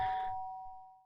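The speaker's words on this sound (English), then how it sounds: "Sharp sound of the doorbell pierced my sleepy haze and pulled me back into the real world." A doorbell rings in the video game Danganronpa, one clear electronic chime that rings out alone and slowly fades away.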